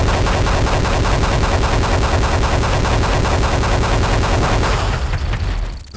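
Continuous rapid gunfire and explosions in the video game Desert Strike, loud and dense, rattling on for several seconds before tapering off at the end.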